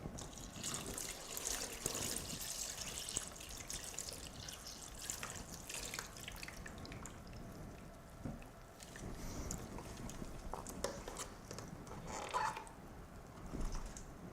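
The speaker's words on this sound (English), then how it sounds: "then rinse under fresh running water to remove the initial cleaning solution" Running tap water splashing while a respirator mask is rinsed, a continuous broad hiss with irregular spatters and surges, close and fairly loud, no voices.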